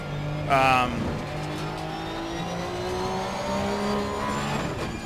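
Porsche 992 Cup race car engine in Assetto Corsa Competizione at Spa, a steady mid-pitched drone with a sharp rev burst near the start and rising gear sweeps, heard up close under someone talking.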